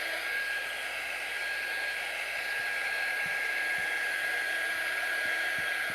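A hair dryer blows steadily on a painted door tag, a loud, even rushing hiss close by that holds throughout with faint light taps underneath.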